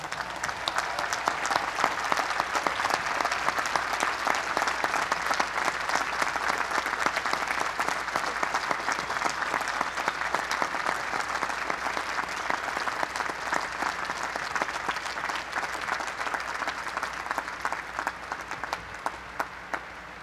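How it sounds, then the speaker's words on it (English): Sustained, dense audience applause fills a large hall at the 1985 MIT commencement ceremony, steady and loud throughout before thinning slightly near the end. "give them the applause and the thanks they so richly deserve"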